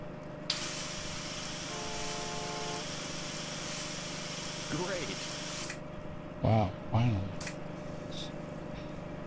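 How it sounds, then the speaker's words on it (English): Spraying a car interior in the Gas Station Simulator game makes a loud, continuous hissing that runs for several seconds and then cuts off, followed by a few brief in-game sounds, with a voice talking over it. "I'm gonna spray inside your car just because you can not do all this stuff."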